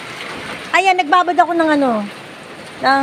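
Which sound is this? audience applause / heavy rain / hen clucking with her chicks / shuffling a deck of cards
heavy rain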